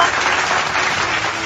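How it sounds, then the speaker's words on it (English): Applause for a speaker, a short burst of many people clapping together, dense and steady. "A round of applause to our speaker, Coach Darwin Rivers."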